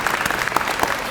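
Press conference audience at a foundation event breaking into loud, dense applause, a continuous close wash of many hands clapping for the whole moment.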